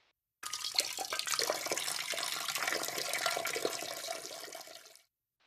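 Water pouring steadily from a tap into a bottle in the survival game DayZ, a continuous splashing rush that starts abruptly and stops after about four and a half seconds, heard alone without talk.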